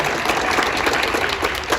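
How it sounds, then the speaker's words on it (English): A school audience claps in steady, dense applause that stays loud and even through a short burst. "one more huge round of applause for Gabby and Tori"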